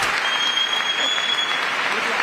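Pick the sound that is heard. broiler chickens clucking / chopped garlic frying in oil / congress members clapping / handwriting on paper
congress members clapping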